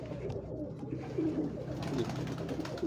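Low overlapping cooing from a flock of purebred pigeons, including wire-type and crested birds, fills a Lahore rooftop loft, steady and near, growing a little fuller toward the end.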